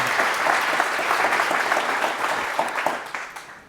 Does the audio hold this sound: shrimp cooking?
no